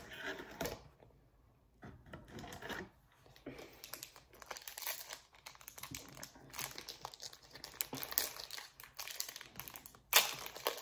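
A Digimon card booster pack wrapper is crinkled and ripped open along its perforated sides, making close, papery foil rustling and tearing with sharp crackles toward the end.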